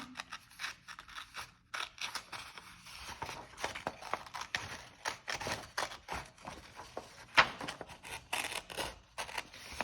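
Scissors cutting a paper strip, with a steady run of crisp snips and rustling paper close by, fairly quiet and with no talking.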